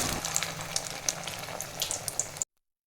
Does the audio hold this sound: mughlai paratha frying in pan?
yes